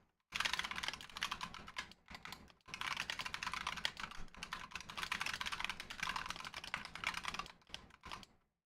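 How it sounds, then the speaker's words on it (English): Very fast, continuous typing on a computer keyboard, a dense stream of clicking keystrokes with a few brief pauses, close and fairly quiet with no voices. "someone's typing super fast."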